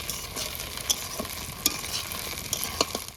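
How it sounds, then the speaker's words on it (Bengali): Soybean chunks fry in foaming oil in a pan, a continuous close sizzle with occasional sharp spatula scrapes and clicks as they are stirred. "সোয়াবিন ভাজা হয়ে গেছে এবার তুলে নেবো"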